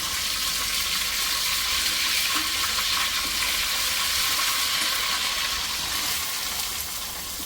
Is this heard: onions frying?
yes